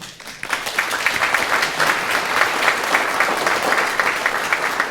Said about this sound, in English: we want to thank him with a round of applause for his contribution